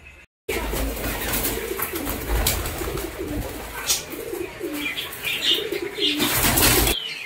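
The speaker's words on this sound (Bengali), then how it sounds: "এক জোড়া সেটিং জোড়া দেশি পায়রা।" A pair of native domestic pigeons coo repeatedly at close range, soft throaty calls layered over a steady background of rustling and faint chirps.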